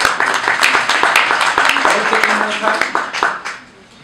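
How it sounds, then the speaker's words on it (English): A crowd claps steadily for a few seconds, the applause thinning and fading out near the end. "A round of applause."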